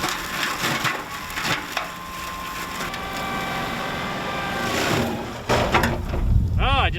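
A brush mulcher chews a small tree with rough, crunching wood-splintering noise over a steady machine drone, loud and close, with a voice heard near the end.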